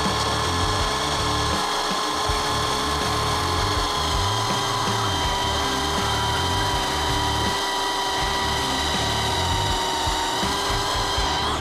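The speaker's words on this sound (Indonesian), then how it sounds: "Terus yang kita di mode pengeboran di GSB 185 Li gigi 2 dulu ya" A Bosch GSB 185-LI cordless drill runs in gear 2 in drilling mode, a steady loud whine boring into material that holds continuously with a grinding, rasping texture for about twelve seconds, with no talking.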